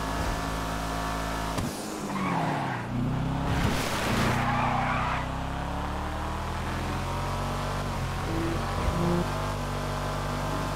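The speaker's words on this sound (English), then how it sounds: "The sound that engine makes on the freeway." A car engine droning as it drives along the freeway in GTA Online, a steady mid-loud hum with a brief surge and tire noise partway through, continuing under ambient game sound.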